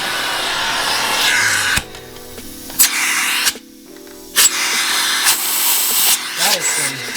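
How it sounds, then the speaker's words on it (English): A central vacuum unit runs with strong suction, a loud steady roaring hiss that changes tone several times as airflow is blocked and released, with a brief drop in level in the middle; someone speaks over it. "I'm gonna turn the unit on and here's how it sounds."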